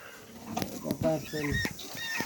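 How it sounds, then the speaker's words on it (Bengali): Domestic desi hens clucking close by in short, irregular bursts, with a person talking alongside. "ওই যে দেখেন আমার পাকিস্তানি মুরগিগুলা"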